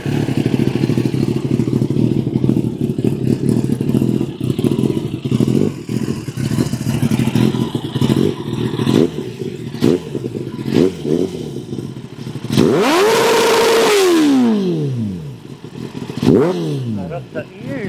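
A motorcycle with an aftermarket exhaust rumbles loudly nearby on the road, then revs up hard and roars past, pitch rising and falling with a deep throaty exhaust note.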